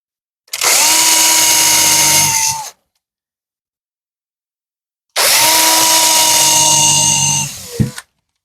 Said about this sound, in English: I'll drill me a hole right there.